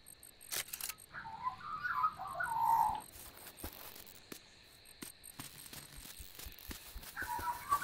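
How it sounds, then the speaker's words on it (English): A bird calls in the open-world video game Dinkum: a couple of short chirping bursts over faint insect-like ambience and scattered clicks, fairly quiet and distant. "Bird."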